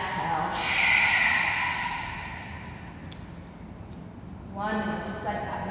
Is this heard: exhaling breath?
yes